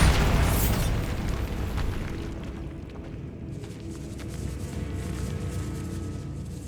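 A Bombarda blasting spell in the Hogwarts Legacy video game detonates in a decaying catacomb with a loud, booming explosion, then a long rumbling debris tail that fades slowly.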